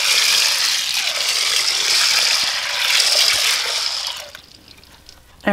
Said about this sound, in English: And we're gonna go ahead and pour some cold water in here.